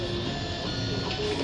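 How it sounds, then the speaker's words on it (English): A 3D printer runs steadily at close range, its motors and fans giving a continuous mechanical hum and whir with faint higher tones, uninterrupted and with no voices. "It's a 3D printer."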